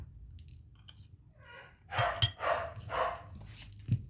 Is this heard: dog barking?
yes